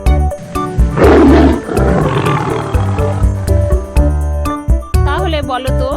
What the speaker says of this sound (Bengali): এই আওয়াজটি হচ্ছে বাঘের আওয়াজ।